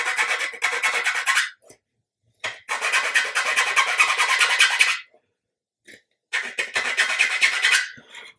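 A hand file rasps a small tab smooth on a part from an Amati 1/80 Endeavour model ship kit, in three bursts of quick, close strokes separated by short pauses.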